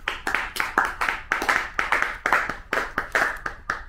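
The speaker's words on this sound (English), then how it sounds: "Thank you for the claps." A small group of people claps in quick, distinct, uneven strokes, each clap close and sharp, continuing for the full few seconds without talk.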